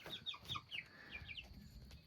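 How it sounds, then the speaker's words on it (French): Roosters settled in a new coop cluck and chirp in short, quick bursts, several soft calls in succession at close range, faint and alone with no talking. "Les coqs se sont bien apprivoisés"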